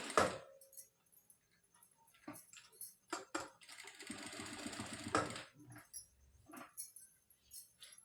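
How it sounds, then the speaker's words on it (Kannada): A sewing machine stitching a blouse runs in a sustained whirring burst of a couple of seconds, framed by shorter stop-start runs, clicks and handling noises in a quiet room. "ಸ್ಟಿಚಿಂಗ್ ಅನ್ನೋದನ್ನ ಕೊಟ್ಕೊಂಡ್ಬರ್ತಾಯಿದ್ದೀನಿ."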